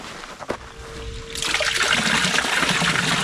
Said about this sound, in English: let's go ahead and plug it in and just kind of watch the water flow down